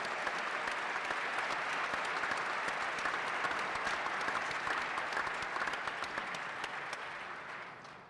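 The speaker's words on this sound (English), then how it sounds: "So let's give a loud round of applause to Dr. Bobby Gempesaw." Sustained, dense applause fills a press conference room at St. John's, steady for several seconds before tapering off at the end.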